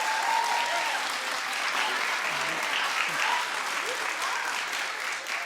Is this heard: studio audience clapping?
yes